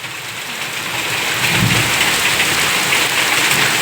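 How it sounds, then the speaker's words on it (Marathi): Steady heavy rain pours down evenly, a dense hiss that swells slightly and then holds with no break. "लगेच पाऊस आला"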